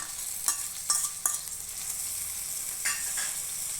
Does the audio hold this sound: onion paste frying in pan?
yes